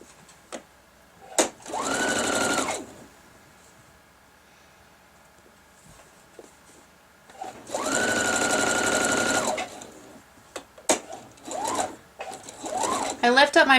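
A sewing machine chain-pieces fabric squares in two steady whirring runs of a couple of seconds each, close and clear, separated by quieter handling clicks and taps, with a few short stitching bursts near the end.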